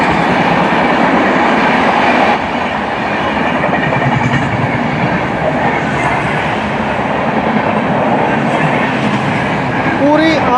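Dhauli Express train rolling along the rails between Puri and Howrah, a loud steady rumble of wheels and carriages with rhythmic clatter, heard from close by and continuous throughout, with a faint squeal near the end.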